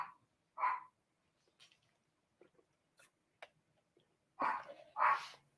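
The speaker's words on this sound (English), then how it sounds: "Sorry about the dogs if you hear them." Dogs bark in short separate bursts, a few sharp yaps early and a louder pair near the end, somewhat distant in a quiet room.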